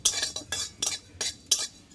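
Cumin seeds crackle and pop in a hot pan as a quick series of crisp, close bursts, about five or six distinct spurts of sputtering in under two seconds.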